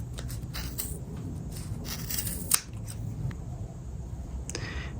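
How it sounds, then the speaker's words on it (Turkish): Scissors snip through yarn while a pompom cushion is made, with a few soft, close, crisp cuts scattered over a quiet background and one sharper snip in the middle. "Bu tarafı da aynı şekilde sonuna kadar kesiyorum."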